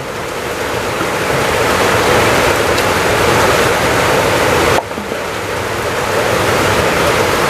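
Heavy rain pours down in a loud, steady hiss that dips for a moment before continuing.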